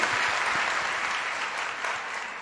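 Party workers at a political gathering clap together in sustained, dense applause that stays steady and fairly loud throughout, with no voices standing out above it.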